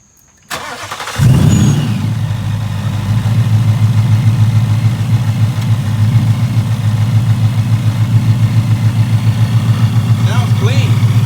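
A 2018-2020 Ford Mustang GT with a Vortech supercharger fires up and settles into a loud, steady rumbling idle with a rapid pulsing beat, recorded close.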